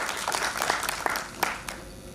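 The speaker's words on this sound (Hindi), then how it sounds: "जोरदार तालियों से आप लोग इनका स्वागत करेंगे।" An audience at a mobile app inauguration ceremony claps to welcome a village head, a steady mid-level wash of applause with a few sharper claps standing out over about two seconds.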